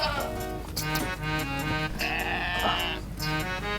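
Goats bleating in a market setting ahead of Bakra Eid, several harmonic calls close by and overlapping in irregular bursts, one long drawn-out bleat in the middle, with a steady background din.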